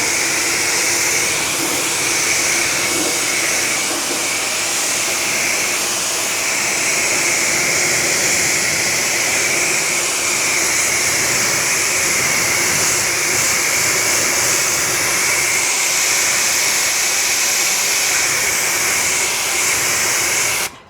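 Water spray rinses the roof of a car that has a ceramic coating, producing a steady, close, continuous hiss that holds unbroken for about twenty seconds.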